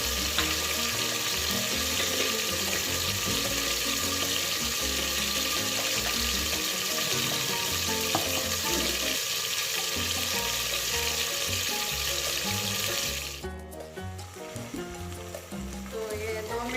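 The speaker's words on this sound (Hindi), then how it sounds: "तो ये 2 मिनट हमने फ्राई किए हैं प्याज और टमाटर।" Chopped onions and tomatoes fry in a pan for mustard greens saag, giving a loud, steady, close sizzle that drops briefly near the end, as if stirred, before continuing.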